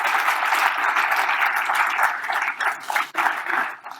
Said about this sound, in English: Big round of applause for Alex Gittins,